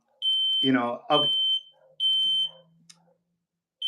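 A smoke alarm goes off indoors, sounding three loud, high, steady beeps about a second apart, with someone talking over and between them.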